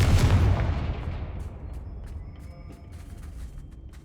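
A Confringo explosion spell in Hogwarts Legacy: one loud, close blast at the very start that rumbles and fades away over a few seconds, followed by faint scattered crackles.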